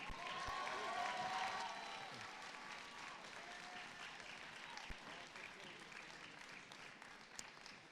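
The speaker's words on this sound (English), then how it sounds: "a round of applause for our associate degree graduates, diplomas, and certificates of PHSC" A commencement audience applauds associate degree, diploma and certificate graduates, with a dense wash of clapping and crowd noise that starts strong and gradually eases while voices murmur underneath.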